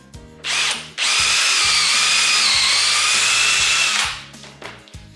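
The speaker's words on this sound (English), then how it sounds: "Once your holes are drilled, you can unclamp." Power drill boring pocket holes in wood with a Kreg jig, heard as a loud high whine that starts briefly, then runs steadily for about three seconds before spinning down, with no talking.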